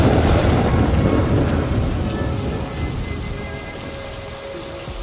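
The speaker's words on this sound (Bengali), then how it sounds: "এরে, বৃষ্টি পড়া ধরলো যে" Steady heavy rain pours down with rumbling thunder in a Bengali fairy-tale cartoon, a dense, continuous wash of sound that stays loud and even throughout, with no voices.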